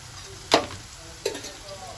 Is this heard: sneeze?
no